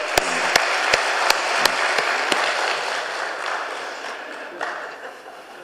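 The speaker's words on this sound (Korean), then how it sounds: "우리 박수 한번 격려해 주시기 바랍니다" Applause from a church congregation at a Sunday service, a broad wash of clapping with a few sharp claps standing out at the start, fading gradually toward the end.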